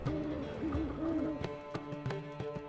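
An owl in The Witcher 3 gives a wavering hoot over a busy game soundscape, followed by sharp clicks and ambient effects with no talk.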